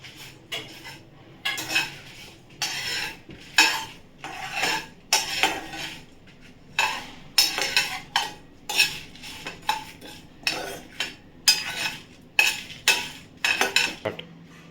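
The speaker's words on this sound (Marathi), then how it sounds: "व हे जे मसाले काढले होते ना धणे मिरी वगैरे ती सगळी भाजून घेते." Coriander, black pepper and dry red chilies roasting in a dry pan for metkut spice powder, with a spoon scraping and clinking against the metal in steady repeated strokes, close and fairly loud, no talking.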